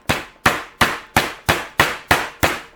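A meat hammer pounds pork tenderloin flat on a board: eight evenly spaced, sharp, loud thuds in a steady rhythm, each stroke dying away quickly.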